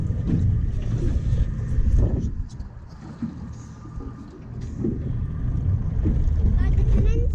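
A boat's Cummins engine runs during a local fishing outing, a loud close low rumble with wind buffeting the microphone and rising and falling surges, while people talk over it.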